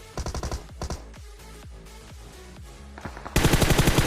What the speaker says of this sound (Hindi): अब यहाँ पे सामने की तरफ से फायरिंग की साउंड आती है मेरे को